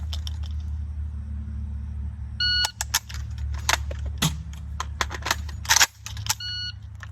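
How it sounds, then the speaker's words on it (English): A shot timer gives short electronic beeps at the start and end during dry-fire practice with a DDI 47s pistol, between sharp clicks and handling noises over a steady low hum. "I do have a shot timer here."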